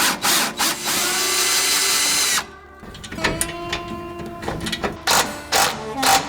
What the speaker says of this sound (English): using power tools to speed up the process